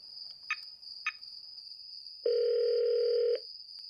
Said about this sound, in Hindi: अगली गली में जाते ही सबसे पहले उसने हीबा को कॉल लगाया।